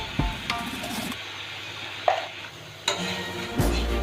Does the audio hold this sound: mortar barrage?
no